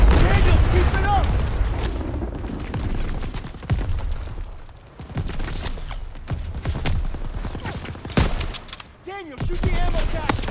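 Heavy gunfire and booms from the video game Call of Duty WWII, with ammo caches being shot: repeated bursts and sharp cracks crowd a loud battle scene, while a voice talks over it at times.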